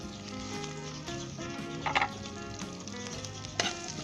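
Anardana and kasuri methi fry for karhi in a pan: a soft, continuous sizzle with a few sharper crackles and stirring scrapes, heard close and quiet with no talking.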